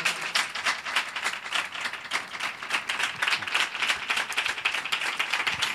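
A church congregation clapping hands together in praise, dense rhythmic applause from many people at a steady moderate pace, close and continuous with no voices over it.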